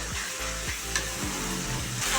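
Chicken pieces go into a sizzling spice masala, a steady close frying hiss with a few soft scraping stirs and light clatter from the pan.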